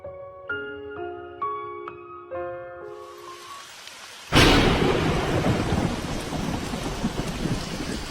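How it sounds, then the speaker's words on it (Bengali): A few plucked melodic notes fade out before a loud thunderclap bursts in, followed by steady heavy rain falling on a tin roof in a cartoon scene. "অনেকদিন পর বৃষ্টি হলো"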